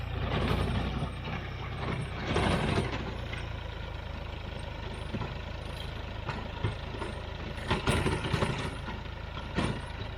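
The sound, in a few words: garden tiller engine running while tilling thick soil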